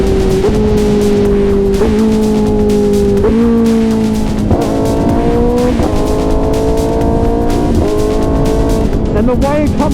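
1000cc sport motorcycle accelerating hard with a quick shifter: a loud, close engine note climbs in pitch and snaps down at each rapid clutchless upshift, repeating about seven times in a steady rhythm.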